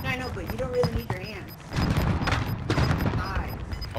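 Gunfire and explosions from the video game Call of Duty Warzone, a dense run of loud blasts and shots rising after a quieter start, with players talking over the action.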